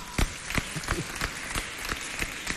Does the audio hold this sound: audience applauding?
yes